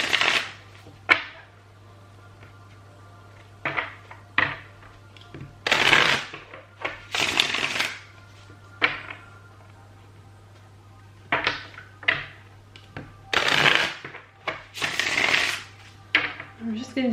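Tarot cards being shuffled by hand in a series of separate riffling bursts, some short and some longer, close and clear with quiet pauses between them.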